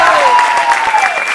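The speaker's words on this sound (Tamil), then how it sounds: "அதுக்கு ஒரு பெரிய கைத்தட்டல்." A stage audience at a speech event by Aranthangi Nisha breaks into loud, close, continuous applause, with a sustained tonal sound running beneath the clapping.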